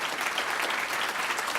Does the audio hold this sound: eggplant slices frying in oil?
no